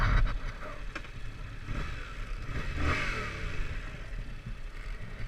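A 2019 Yamaha MT-07 motorcycle riding and accelerating, a rough engine roar with wind noise, rising and easing as the bike pulls away.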